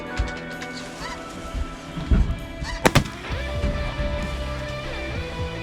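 Shotgun blasts ring out during a waterfowl hunt over decoys: two sharp, loud reports close together mid-clip, with geese honking and calling around them.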